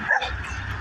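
A jumping dog in the south Houston area gives a short, high yip that slides into a thin whimper, close by and fairly quiet against steady background noise.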